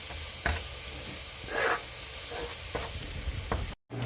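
Flour for a vegan Alfredo roux cooks in a pan with a steady soft sizzle, broken by several scraping stir strokes. It ends with a brief cut to silence.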